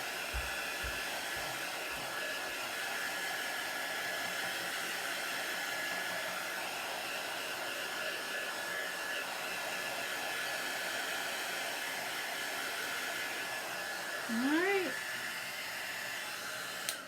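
A hair dryer blows steadily close by for the whole stretch, drying chalk paste on a porch sign, with a loud even whir and hiss and a brief pitch wobble near the end.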